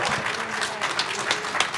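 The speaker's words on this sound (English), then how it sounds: "So one more round of applause for these two amazing legends." Applause from the audience at a horror convention panel, a close, full burst of many hands clapping steadily throughout the short moment.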